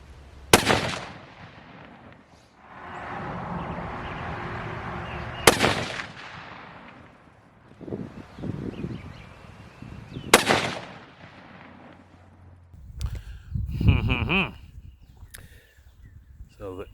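A 30-06 rifle firing bonded bullets outdoors: three sharp, loud shots spaced several seconds apart, each with a short echo, plus quieter handling noises and a voice toward the end.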